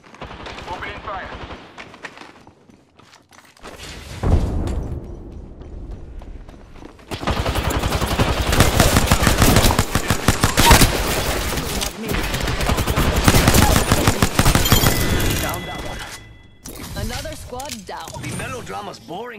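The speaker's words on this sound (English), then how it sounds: "Opening fire." Rapid automatic gunfire from the video game Apex Legends, with dense, loud bursts rattling almost continuously through the middle stretch among game effects, and voices speaking at points.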